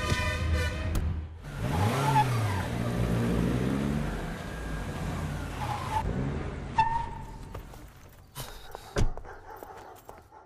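A car engine revs in a parking area, rising and falling loudly up close for several seconds before fading, followed by a few sharp knocks and scattered noise.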